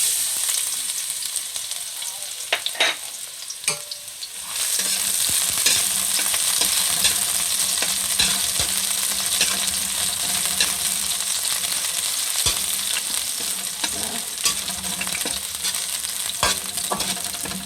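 Garlic frying in a hot wok for a beef ribs dish, a quiet start with a few utensil taps, then a loud continuous sizzle that swells once the garlic drops in, with occasional stirring clinks and no talking.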